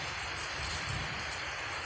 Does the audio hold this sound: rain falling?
yes